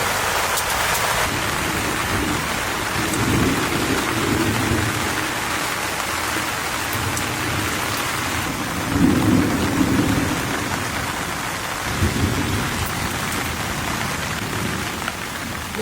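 Heavy rain pours steadily on an outdoor village cooking spot, a dense constant hiss of drops on surfaces with low rumbles of thunder swelling now and then underneath.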